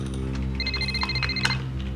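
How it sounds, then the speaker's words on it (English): An electronic phone ringtone chirps through an incoming call on a car's onboard system in the 1994 TV series Viper. Bright, repeated tones pulse over a steady engine hum, with no talk. "I've got a phone call coming through the system."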